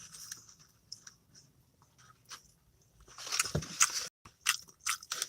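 Crunchy bites and wet chewing from someone eating lunch on a livestream, close to the mic, in a handful of uneven bursts, louder near the end with short pauses between mouthfuls.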